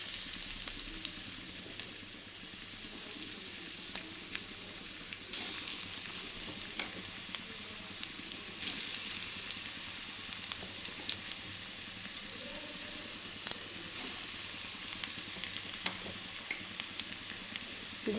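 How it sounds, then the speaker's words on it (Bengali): Small pakoras frying in hot oil on a low flame, a continuous close hiss and crackle with scattered tiny pops throughout, steady and without talking. "আমি এরকম ছোটো ছোটো করে পকোড়ার আকারেই ভেজে নেব।"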